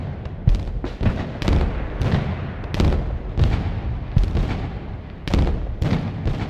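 Incendiary Grad rocket artillery in the war game Broken Arrow fires a rapid volley, a string of loud sharp booms and whooshes arriving in irregular bursts at close range.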